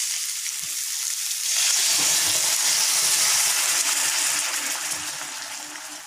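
Coconut milk pours into a hot pan of tuna being cooked as Filipino ginataang isda, setting off a loud, close sizzling hiss that swells, holds steady, then slowly fades.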